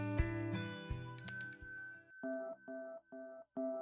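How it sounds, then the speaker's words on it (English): A shop door bell chimes bright and metallic as a soaked man stumbles into the store past midnight, one clear ring among soft animated-story music, followed by a few gentle tones. "Lydia heard the bell ring as a man stumbled in the shop"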